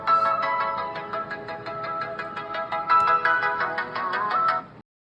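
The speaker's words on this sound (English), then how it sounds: "Tap it and boom, my phone's blaring and lighting up." A smartphone rings out a loud, melodic chiming tone for several seconds before cutting off abruptly, set off by a DIY smartwatch's Find Phone feature.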